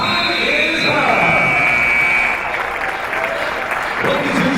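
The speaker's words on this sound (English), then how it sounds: "let's have a round of applause for the Carroll County Cavaliers and Carroll County Tornadoes" Loud, continuous crowd applause and cheering fill a gym after the final buzzer of a Division III college basketball all-star game between the Carroll County Cavaliers and Tornadoes, a dense roar sustained throughout with voices mixed in.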